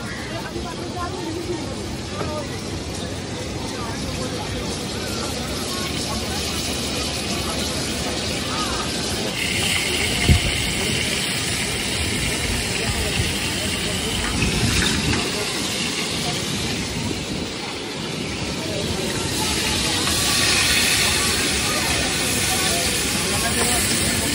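Steady sizzling hiss of fish and crab cooking with ground spices at a beach food stall in Digha, continuous and fairly close, with crowd babble and voices around it.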